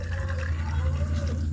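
Water pours into a container holding pesticide to dissolve it, a steady close splashing fill with a low rumbling background throughout.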